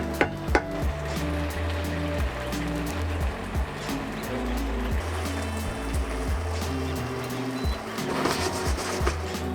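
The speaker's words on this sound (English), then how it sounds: "let's just let that simmer for another minute or so" Ebi chili sauce with shrimp simmering in a pan on the stove, a steady bubbling and sizzling texture running continuously with a low background hum and a couple of soft clicks near the start.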